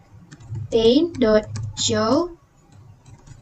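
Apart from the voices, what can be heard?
typing on a computer keyboard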